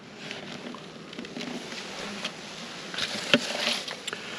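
Honeybees swarm around an opened hive during an inspection, their dense droning buzz filling the air close by, with occasional louder passes of individual bees and faint handling sounds.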